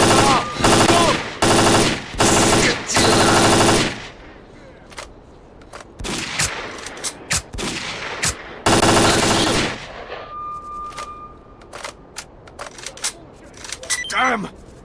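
Sniper and automatic gunfire in STALKER Clear Sky: loud repeated bursts of shots in quick volleys, separated by single sharp cracks, echoing impacts and a brief electronic hum, with no talking.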